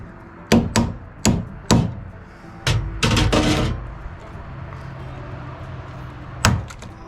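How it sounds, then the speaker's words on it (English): Several sharp, loud mechanical bangs from a rivet gun on an overland trailer build fire one after another, then a short rapid burst of hits, followed by a quieter pause and one last bang. "The rivet gun"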